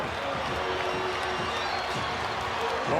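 Basketball arena crowd cheering and rising to their feet late in a close Celtics–Pacers NBA game, a loud continuous roar of voices with scattered claps, steady throughout.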